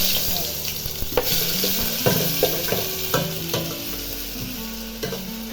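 Ginger garlic paste fries in hot oil for chicken Manchurian, giving a loud, steady sizzle up close, with stirring scrapes and knocks recurring throughout over faint background music.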